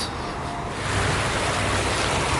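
Water trickles and rushes outdoors at sunset, a dense, steady wash of noise that swells slightly louder partway through, heard alone without talking.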